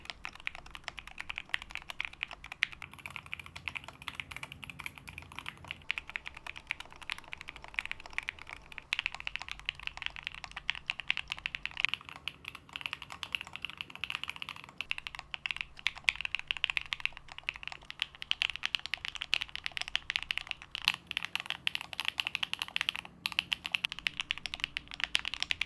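Rapid, steady typing on an Akko mechanical keyboard fitted with Sakura, Swift and Rosewood switches, a dense, clacky patter of keystrokes continuing throughout at moderate volume, with no talking.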